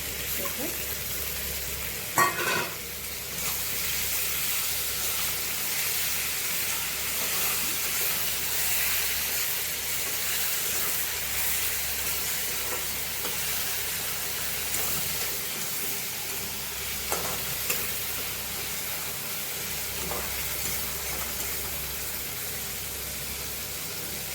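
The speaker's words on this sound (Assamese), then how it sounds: "এটা ভাজি পেলাই এতিয়া লৰাইছে।" Continuous frying sizzle and hiss of fish with onion, garlic, ginger and tomato in a pan, with occasional scrapes and knocks of a utensil stirring, steady throughout with no talking.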